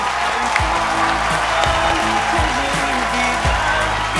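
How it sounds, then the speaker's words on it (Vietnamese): A television studio audience applauds on a Vietnamese dating show, a steady, dense wash of clapping over low background music throughout. "mọi người một tràng vỗ tay nữa thật to để chúc mừng họ"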